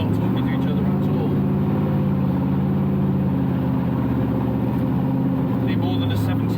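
A 1962 Corvette C1 historic race car engine drones loudly and steadily while driving, a continuous low rumble filling the cabin without pause.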